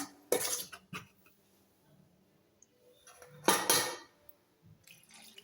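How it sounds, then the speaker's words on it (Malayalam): A utensil knocks and scrapes against a pot while jackfruit batter is stirred and water is added little by little, two louder bursts of clatter amid quiet stretches. "കുറേശ്ശെ വെള്ളം ഒഴിച്ചിട്ട് നമുക്ക് ഇളക്കി കൊടുക്കാം"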